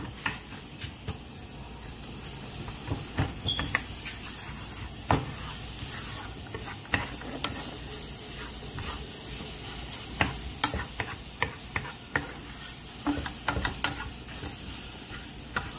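Vegetables sauté and brown in a pan, a steady close sizzle broken by frequent sharp stirring clicks and scrapes throughout, with no talk.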